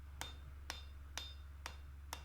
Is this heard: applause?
no